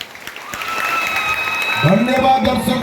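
An audience at an Odia jatra theatre performance claps in a sustained burst after the play, the applause running steadily under a voice addressing the viewers.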